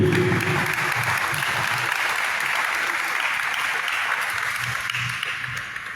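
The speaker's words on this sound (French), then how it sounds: "Nous pouvons l'acclamer pour le motiver." A church conference audience gives sustained, dense applause to welcome Abbé Séraphin Bamdon as the Lenten speaker, forming a steady, loud wash of many clapping hands that fades slightly at the end, with faint voices underneath.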